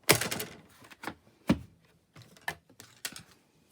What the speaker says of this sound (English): sorry, all this rattling and rolling. I'm just getting the plates out for you.